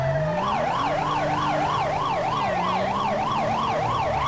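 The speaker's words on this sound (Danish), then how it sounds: "Vi kan bare lige køre over med sirener og blink." An emergency vehicle siren wails in a steady rapid rise-and-fall pattern, loud and close over engine rumble.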